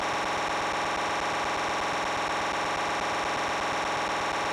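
A harsh, buzzy burrowing effect from the mole in the 1985 Thunderbirds game on a 48K ZX Spectrum: a steady wash of gritty electronic noise with a rapid low pulsing underneath, loud and continuous throughout.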